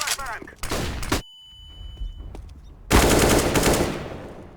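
Gunfire in a Counter-Strike: Global Offensive ranked match: loud, close bursts of rapid automatic shots separated by a short lull, with a sustained volley closing out the moment.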